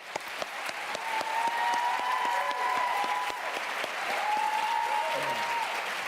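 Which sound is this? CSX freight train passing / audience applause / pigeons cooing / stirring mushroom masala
audience applause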